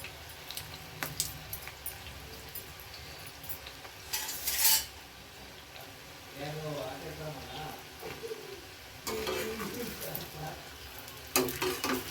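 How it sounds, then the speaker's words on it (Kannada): Bitter gourd slices frying in hot oil, a steady close sizzle with stirring scrapes and a few utensil clinks on the pan, a voice talking over parts of it. "ಹಾಗಲಕಾಯಿ ಫ್ರೈ ಮಾಡ್ಕೊಳ್ಳೋದು."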